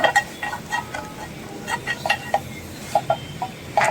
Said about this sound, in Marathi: मीठ घालूया छान तेलावरती परतून घ्या हां शक्यतो ही भाजी लागून देऊ नका